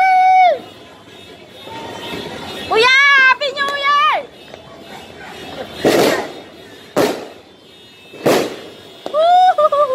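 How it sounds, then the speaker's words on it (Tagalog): New Year firecrackers go off one at a time, sharp loud bangs spaced a second or two apart, while children talk and shout close by. "Ayun guys, so may paputok."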